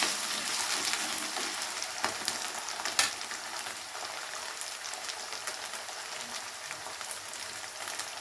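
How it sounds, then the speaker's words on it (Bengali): Potatoes frying lightly in a pan, a quiet, continuous hiss and gentle crackle close by, with one brief sharper pop and no talking. "তো আলুটাকে প্রথমে একটু হালকা ভাজা ভাজা করে নেব।"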